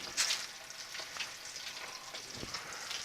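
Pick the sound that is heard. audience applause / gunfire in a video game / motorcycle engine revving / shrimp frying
shrimp frying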